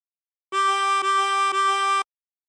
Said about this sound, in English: Blow into 7 3 times.